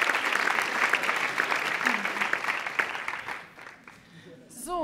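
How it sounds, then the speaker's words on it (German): An audience in a Baden-Württemberg state parliament event hall claps in dense, lively applause that gradually fades out, with a voice speaking over it at the end. "nochmal einen Applaus, ein bisschen"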